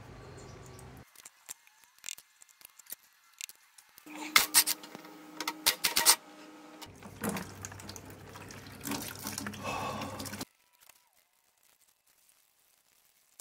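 Fluid pouring out of a Dodge 360 LA engine during teardown, a steady splashing stream like a running tap that comes in bursts and then stops, with talk nearby.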